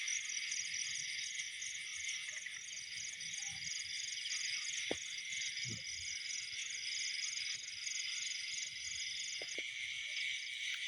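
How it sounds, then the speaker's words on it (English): A Dong cricket chirps at night in a continuous, faint, pulsing trill, with a few soft knocks and rustles in the quiet background. "this one is called Dong Cricket"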